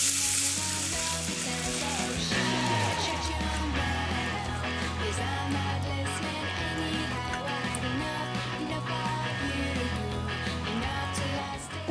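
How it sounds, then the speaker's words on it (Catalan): Fish stock stirred into flour in a pan for a Basque-style monkfish dish starts to simmer, giving a dense, steady bubbling sizzle that runs loud and unbroken throughout, with no talking. "veiem que això ja comença a fer xup-xup"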